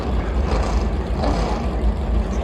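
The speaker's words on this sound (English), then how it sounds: "Engines are fired." Race car engines fire up together at Martinsville for the Xfinity 500, a loud, continuous, dense low rumble that holds steady throughout with no voices.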